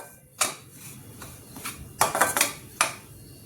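Semolina (rava) being dry-fried on low heat for rava sheera, where a spoon clinks and scrapes against the metal pan in a few sharp, close taps and a quick cluster of knocks over a quiet background.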